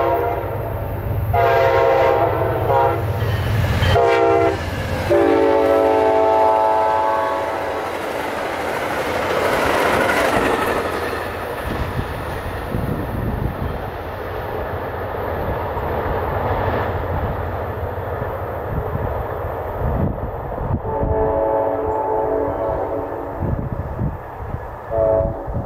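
Amtrak P080 passenger train passing with loud, long horn blasts at the start and again later, a sustained rumble of locomotive and cars rolling by in between.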